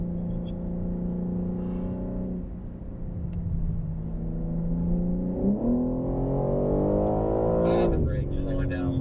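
A BMW M3 engine drones steadily on a racetrack, first holding its pitch, then rising as the car accelerates, with a loud surge near the end. A voice talks over the engine noise.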